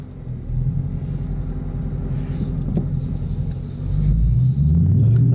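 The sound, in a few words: 2017 Dodge Challenger R/T Hemi engine rumbling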